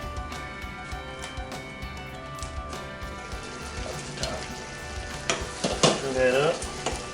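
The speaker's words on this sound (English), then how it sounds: "I'm going to reduce this down to medium-low and simmer it" Diced tomatoes for shakshuka simmer in a pan with a soft, low bubbling hiss, and near the end louder stirring scrapes and clatters come up close.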